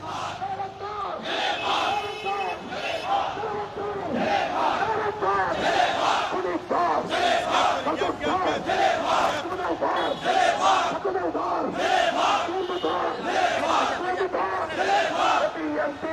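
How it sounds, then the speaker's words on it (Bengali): Protest march crowd in Old Dhaka chanting slogans against extortionists, many voices shouting rhythmic call-and-response phrases in loud, steady waves throughout, close and continuous. "ইসলামী আন্দোলন বাংলাদেশ চাঁদাবাজদের বিরুদ্ধে মূলত এই স্লোগান ধরেছে"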